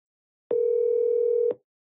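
A steady single-pitch dial tone sounds for about one second on a VoIP line while a Spanish number is dialed, starting and stopping abruptly with silence on either side.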